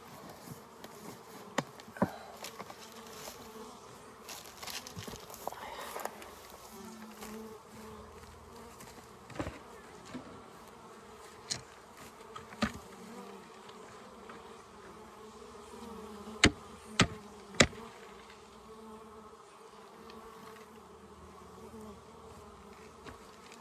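Honey bees buzz steadily around a beehive during a spring hive check, a continuous close hum with a few sharp knocks and clicks scattered through it.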